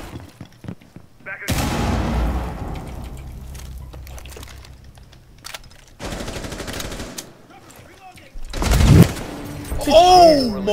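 Gunfire in a multiplayer video game, bursts of rapid automatic shots and single cracks coming in clusters, with players talking and shouting over it.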